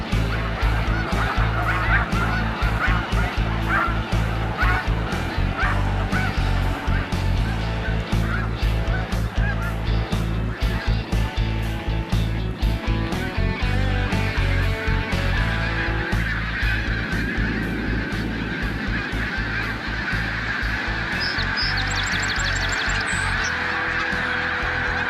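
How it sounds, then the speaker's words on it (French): A large flock of snow geese at Montmagny honks loudly and without pause, dozens of overlapping nasal calls forming a dense, continuous clamor close by, with no voices. "Où il y a les oies, finalement. Où les oies sont."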